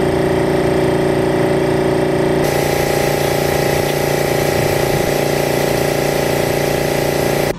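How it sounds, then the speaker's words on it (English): A small electric air pump hums loudly and steadily while inflating a car tire, its drone shifting pitch slightly partway through and cutting off at the very end. "So I'm gonna go pump my tires right now, or just like one of them."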